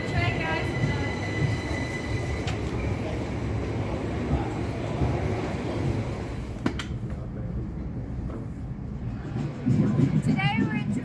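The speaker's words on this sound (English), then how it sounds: "Here's our train." A train pulls into a station in the UK with a loud rolling rumble and a rising wheel squeal near the end, while people's voices murmur around it.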